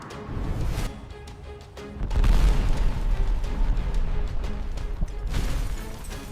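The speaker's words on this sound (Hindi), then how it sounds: "ये जो सामने पंप नजर आ रहा है ना, इसको भी उड़ा दे" A fuel pump being blown up in a dramatic staged scene: deep booming rumble that swells after a brief lull and rolls on with crashing debris, fairly loud and without speech.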